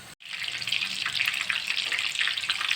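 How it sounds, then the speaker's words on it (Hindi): Seekh kabab rolls frying in hot oil in a kadai, a steady, dense sizzle and crackle that continues without pause after a brief silent gap at the start, close and moderately loud. "तो ये देखिए रोल्स फ्राई हो रहे हैं।"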